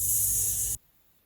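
Liquid fizzing as a bright, loud, steady hiss close by, which stops abruptly after under a second, leaving near silence.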